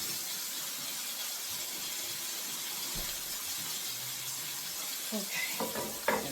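Thin cubed steak frying in an already hot pan for breakfast, a steady bright hiss of sizzling fat held close throughout, with a few faint clinks near the end.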